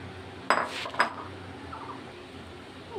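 Metal kadai set down on a gas stove, two sharp clanks close by half a second apart, then softer rattles against quiet room noise.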